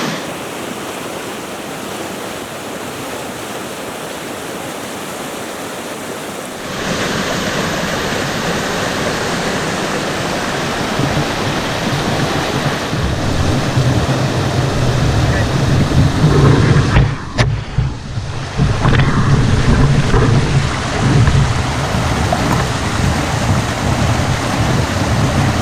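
Rapids on the East Wanapitei River roar steadily through a rocky chute, a loud broadband rush that swells after a few seconds and stays close and continuous, with no voices.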